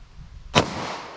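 A .40 Smith & Wesson round fired from a 5-inch pistol during a ballistic velocity test, heard as one loud, sharp crack midway through a quiet stretch, followed by a brief decaying echo.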